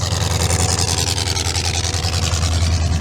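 A race car engine idles steadily and close by as the car heads to tech inspection at a drag racing event, with a deep, even rumble and no voices over it.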